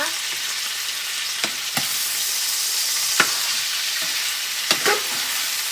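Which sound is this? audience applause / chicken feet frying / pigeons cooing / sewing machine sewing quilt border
chicken feet frying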